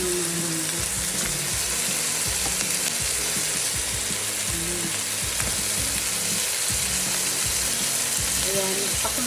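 Crab pieces frying in a pan give off a loud, steady sizzling hiss for the full nine seconds, with small scattered clicks and scrapes as if being stirred.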